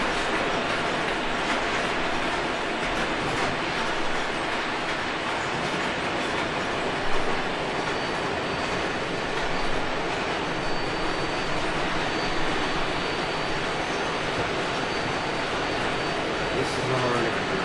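A model train rolls continuously along a layout track with steady rumbling and clattering, a busy hiss under it throughout.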